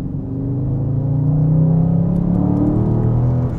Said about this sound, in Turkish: Yavaştan aracı spor moduna bir kez daha hızlandıralım.